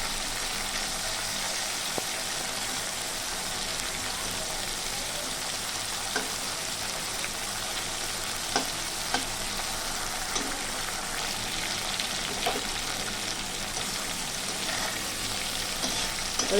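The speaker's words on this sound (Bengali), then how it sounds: "যাতে সমস্ত মাছগুলো সমানভাবে হয়, তাই আমি একটা একটা করে উল্টে দিচ্ছি মাছগুলো সুন্দর করে" Prawns frying in a wok for prawn malai curry, a steady hiss of hot oil with occasional soft clicks as pieces are turned over one by one; no talking.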